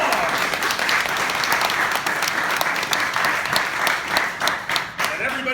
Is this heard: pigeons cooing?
no